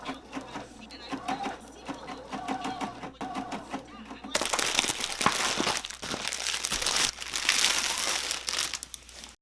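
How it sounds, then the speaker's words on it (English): Tulle fabric handled and cut on a living room floor for an evening dress. Soft papery rustling comes first, then denser, louder crinkling and scraping continue close by without pause. "I cut the tulle on my living room floor"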